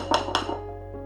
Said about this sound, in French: Je corne bien mon bol